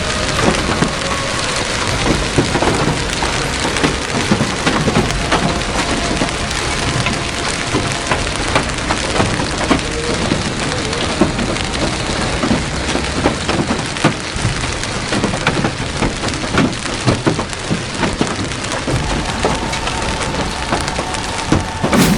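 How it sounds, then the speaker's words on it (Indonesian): Heavy hail pounds down at Masjid Nabawi in Medina, a dense, steady roar of countless sharp impacts on hard surfaces, loud and unbroken for over twenty seconds. "Alami kejadian tak lazim di mana turun hujan es dengan derasnya"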